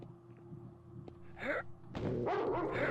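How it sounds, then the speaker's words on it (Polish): Dog barks ring out in the horror video game Nosferatu: The Wrath of Malachi, a couple of loud bursts rising over a low, humming game ambience, the second run of barking denser and sustained. "O, pies!"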